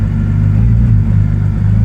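A Porsche 718 Cayman GT4 RS Clubsport engine, heard from inside the cabin while still cold, gives a loud, steady low rumble close by, with no talking.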